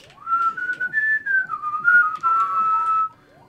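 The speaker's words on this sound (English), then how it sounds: "let's whistle one thing at a time" Whistled melody in a single clear tone, sliding up and down through short phrases for about three seconds, fairly close, with faint game sounds and murmur underneath.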